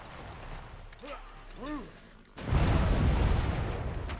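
A city bombarding an enemy unit with artillery in Civilization V. Short mechanical clicks and whooshing shell sounds lead into a deep, loud booming impact that rumbles out to the end.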